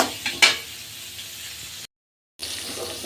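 Chillies frying in hot oil make a quiet, crackling sizzle, with a couple of sharp pops near the start and a brief silent break midway before the frying hiss resumes; no one speaks.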